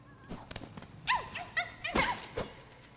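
A small moth-like dog creature in the video game Silksong gives a few short yips and whimpering barks amid clicks and rustles, close and moderately loud, no talk.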